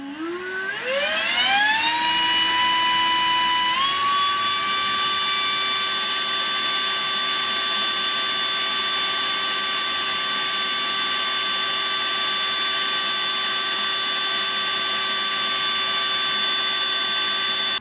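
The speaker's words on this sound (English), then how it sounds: "let's see what Makita's best cordless standalone blower can do" A Makita cordless standalone leaf blower spins up over a couple of seconds, its pitch climbing, then holds a loud, steady high-pitched whine with a constant airy roar, close and alone.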